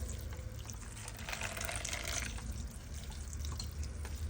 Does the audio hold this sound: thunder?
no